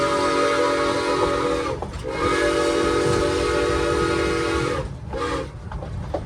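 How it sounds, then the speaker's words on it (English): A 100-year-old Cumbres & Toltec steam train between Chama and Antonito rumbles close by with a loud, sustained whistle blast, broken by two brief dips as the steady rolling noise continues underneath. "So I guess the other train is coming back."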